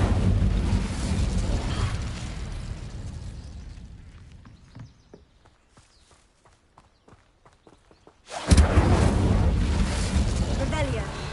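A fire spell cast in a video game, with a loud rushing roar that fades into quiet clicks and taps, then a sudden loud burst of flame returning near the end.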